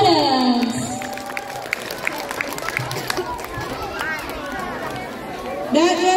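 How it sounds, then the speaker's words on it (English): Applause and crowd noise follow a school drama performance of Malin Kundang at MTs Negeri 2 Ogan Ilir, with clapping continuing steadily under a voice and busy chatter. "Let's give another big round of applause for our students!"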